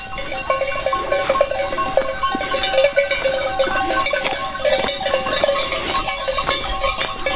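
A herd of goats being gathered from a pasture to sell a buck, with cowbells clanking continuously in an irregular jangle and occasional faint bleats, close and fairly loud.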